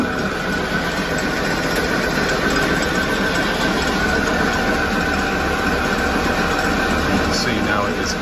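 A knife-edged crankshaft spinning up on a balancing machine, a steady mechanical drone with a high whine held at even loudness for the whole stretch.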